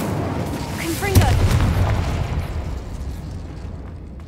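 The Confringo explosive spell in Hogwarts Legacy lands with a single booming blast, preceded by a short rising magical whoosh and followed by a rumbling tail over game ambience.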